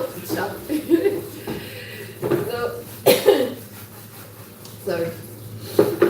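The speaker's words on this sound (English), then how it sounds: "See, that pepper that is causing me to cough." A person coughs repeatedly from pepper while blending spices, in short, harsh bursts spread across several seconds, close up, with a brief spoken word between them.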